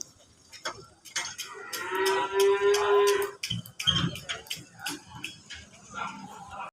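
Cattle being unloaded from a truck at a morning livestock market low and moo repeatedly, some calls long and drawn out, others short, fairly close, with scattered clatter and faint voices around them.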